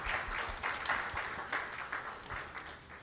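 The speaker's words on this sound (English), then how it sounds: "A round of applause, please, for Dr. Maxine McKay." An audience at a women's awards ceremony in Belize breaks into steady applause, a dense wash of clapping sustained for a few seconds.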